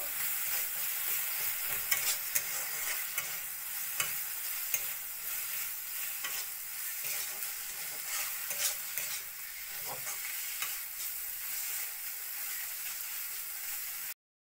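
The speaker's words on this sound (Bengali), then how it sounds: "ভালো করে ভাজা ভাজা করতে দিব" Garlic, onion and turmeric paste with a little salt fries in a pan, making a continuous close sizzle broken by occasional scraping clicks of stirring, with no speech.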